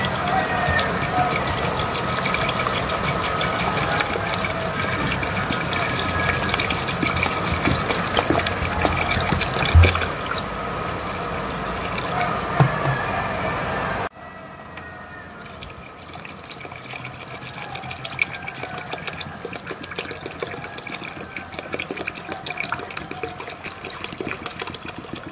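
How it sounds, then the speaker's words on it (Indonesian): Water pours steadily into a betta fish breeding container, a continuous splashing fill that drops abruptly to a quieter trickle partway through, with no talk. "Ya, kita langsung masukin aja airnya."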